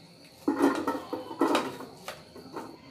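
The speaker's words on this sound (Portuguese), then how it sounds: "a panela grande, que eu vou transferir o milho pra cá" Cooked hominy corn is scooped into a large metal pot for a creamy northeastern Brazilian canjica, with a few close clattering, scraping clunks of utensil against pot and wet grain patter.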